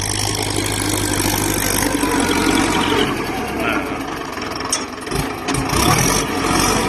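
A Ford 6600 tractor engine idles steadily with a deep, rumbling drone, loud and close throughout, with a few brief knocks and rattles near the end.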